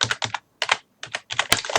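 Close, rapid bursts of keystrokes on a computer keyboard as a folder named PortableApps is typed, with short pauses between clusters of key presses and no talking.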